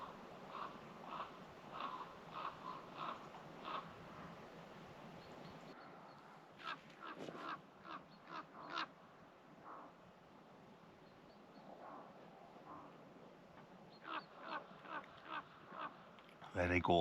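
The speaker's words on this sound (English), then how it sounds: "I can hear crows or maybe rooks coming from over in that direction" Crows or rooks calling in bursts of harsh caws from a distance, then flying into nearby woods at a misty wild camping spot, with quieter gaps between the groups of calls.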